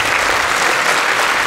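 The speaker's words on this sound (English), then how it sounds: "Let's give them a big round of applause." Steady applause from a crowd at a school concert, dense and continuous clapping throughout with no pauses, fairly loud and close.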